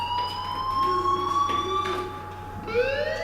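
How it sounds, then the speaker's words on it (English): Fire alarm ringing in Life is Strange, a sustained electronic tone that holds steady at moderate loudness over a low hum, with a rising sweep near the end. "do you hear that fire alarm?"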